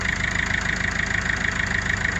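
A 1.6 HDi diesel engine idles steadily just after its injector seals were replaced, a loud, close, even rumble with a fast regular ticking pulse and no talk over it.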